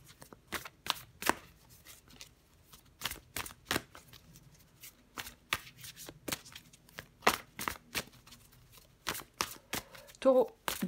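Tarot cards are drawn and handled in a quick run of crisp, close flicks and riffles that come in irregular clusters, with a voice speaking in the background.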